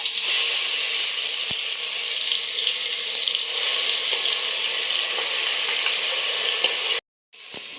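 Ground onion paste frying in a pan for mutton curry, a loud, steady hiss and sizzle that cuts out abruptly near the end, then briefly resumes.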